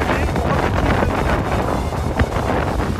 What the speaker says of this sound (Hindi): बहुत तेज हवा चल रही, बहुत ज़्यादा तेज।